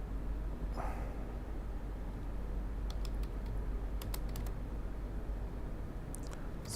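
A computer keyboard is typed on in short, soft bursts of clicks while writing MATLAB code for an LDPC encoder, the keystrokes faint against a steady low background hum.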